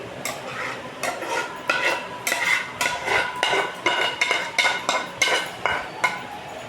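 Raw mango pulp for aamsotto is poured gently onto an oiled plate, with a series of soft, wet, clinking pulses close by and no talk.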